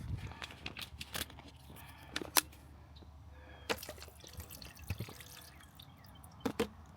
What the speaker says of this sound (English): Let's dump in some water.